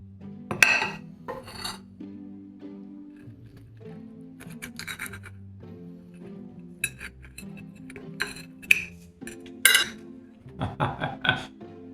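Cutlery scraping and clinking against a plate while smoked salmon and mascarpone bites are eaten, with irregular close scrapes and small chinks over a background of soft music.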